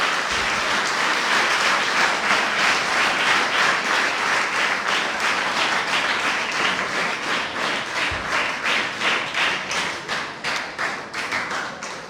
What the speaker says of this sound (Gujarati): તો એના માટે આપણે 4 વક્તાઓને ખૂબ તાળીઓથી બિરદાવીએ